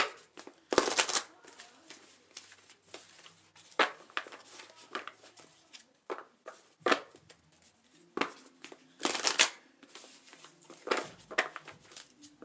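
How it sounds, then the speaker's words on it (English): A deck of oracle cards is shuffled by hand in uneven bursts of riffling and slapping, close and fairly quiet, separated by short pauses. "we're just going to pull a couple oracle cards"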